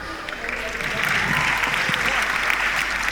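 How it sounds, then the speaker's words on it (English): Comedy club crowd at the Arlington Drafthouse claps steadily through a stand-up set, a dense and fairly loud wash of hands with a few louder individual claps near the end. "Clap if you're married"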